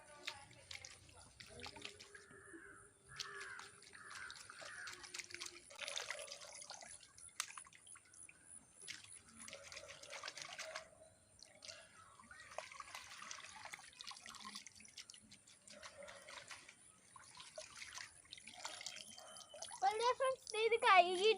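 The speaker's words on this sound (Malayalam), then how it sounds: "ചീര കഴുകാൻ പോവുകയാണ്." Amaranth greens being rinsed by hand in a small pond, with faint intermittent splashes and drips of water, and a person talking throughout.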